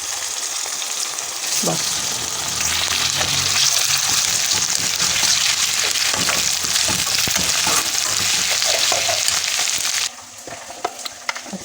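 Cumin, nigella and fenugreek seeds hitting hot oil for a smoky brinjal bharta, a loud, dense, crackling sizzle that bursts in and stays steady, then drops to a softer hiss near the end, with a brief spoken word.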